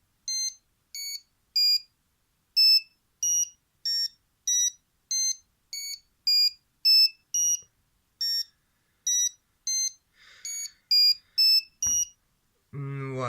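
A New Direction Tackle K9 fishing bite alarm gives a run of short, high electronic beeps in an irregular rhythm, loud and close, with a brief rustle and a voice starting at the end.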